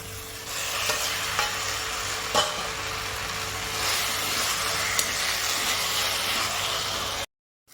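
Roasted eggplant stirred and fried in a pan, a loud hissing sizzle broken by a few sharp scraping clicks of the spoon, cutting off abruptly near the end.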